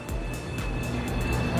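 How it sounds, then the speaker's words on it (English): A steady high-pitched whine rides over a low rumble, the turbo of a turbocharged Dodge Hellcat spinning down after the engine is cut, fairly close and continuous. "You can hear the turbo still spinning after you shut the car off."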